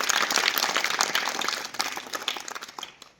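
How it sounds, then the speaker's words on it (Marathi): A group of schoolchildren claps during a morning quiz activity, a dense burst of applause that starts loud and gradually thins and fades toward the end. "टाळ्या वाजवा"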